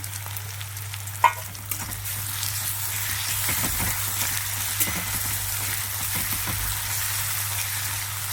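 Ginger and garlic frying with onions in a pan give a steady, close sizzle over a low hum, with a few sharp clinks from stirring and no talk.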